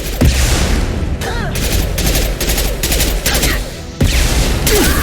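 Dense rifle fire in the video game Mass Effect 2 crackles in rapid, overlapping volleys, loud and close throughout, with sharper bursts near the start and around four seconds and a voice briefly audible under the shooting.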